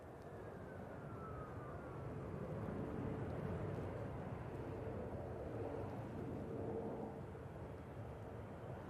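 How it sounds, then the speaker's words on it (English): An EasyJet passenger jet lands at Manchester Airport, its engines giving a broad, rumbling roar that swells gently toward the middle and then eases, heard steadily from a distance with no voices. "Nice landing from the EasyJet"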